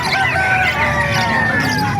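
A Brahma chicken crows at an outdoor animal market, a loud drawn-out call that runs through the whole stretch over steady crowd and market noise.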